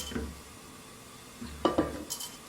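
Pumpkin pieces go into a pressure cooker in a home kitchen, making a few sharp clunks against the metal pot in quick succession after a quiet stretch, with no talking.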